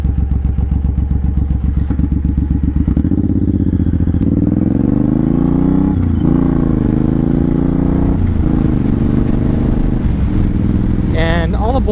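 A Suzuki M109R Boulevard cruiser with a Cobra side-swept exhaust idles and revs close by, a deep loud rumble whose pitch rises and falls as the throttle is worked, ending with a brief sharper burst.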